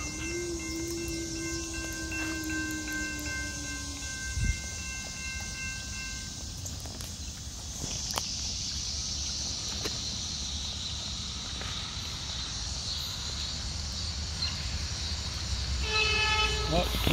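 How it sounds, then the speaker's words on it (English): A train rumbles past at a distance in Linthicum Heights, Maryland, at night, with a steady mechanical drone, a short horn toot near the start, and a rising clatter toward the end. "look, there goes the train"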